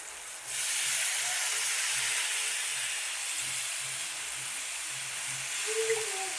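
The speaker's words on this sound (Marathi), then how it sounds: "आता मेथीची भाजी टाकत आहे बघू शकता तुम्ही." Fenugreek greens (methi) tipped into a hot, already-salted pan give a steady, bright hiss of sizzling that holds for several seconds with no one talking.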